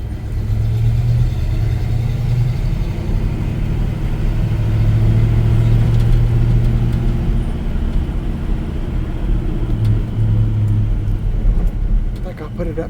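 A Chevy C10 pickup truck engine rumbles steadily while driving, a loud, continuous low drone that holds for the whole stretch with slight swells in pitch.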